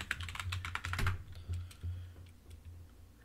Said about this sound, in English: let's type my username